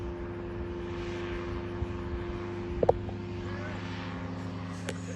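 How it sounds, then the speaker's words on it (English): An engine-powered paraglider flies overhead above a large tobacco farm, its propeller engine giving a steady droning hum that swells and fades as it passes, with a few faint knocks nearby. "I think it's a paraglider or something with an engine."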